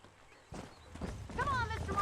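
Horses' hooves clip-clop in the Western video game Red Dead Redemption, a steady walking rhythm near and moderately loud, with voices talking over it.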